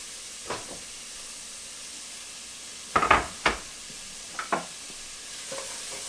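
Chopped onion tossed into a little oil in a pan gives a soft, steady sizzle, broken by a few sharp stirring and scraping hits against the pan.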